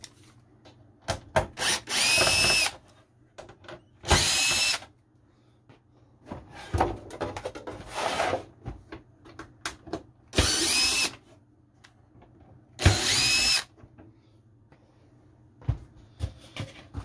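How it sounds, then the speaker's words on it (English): A power drill whirs in short repeated bursts, backing screws out of refrigerator ice dispenser parts, with quiet clicks and handling noises between the loud, close runs. "So, we got some screws to undo."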